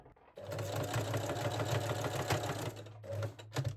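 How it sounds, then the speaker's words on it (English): Sewing machine stitching the crotch seam of lace-back Brazilian panties, a close, steady mechanical whir that runs without pause for about three seconds, then stops and restarts in short bursts. "You can lock the seam by sewing forward, backward and forward again."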